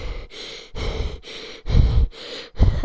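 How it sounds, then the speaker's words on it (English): Heavy, rhythmic breathing comes through a voice chat during a Rust game, with several deep, close inhales and exhales in steady cycles, some rough and gasping, and no talk. "Yo, I hear you breathing"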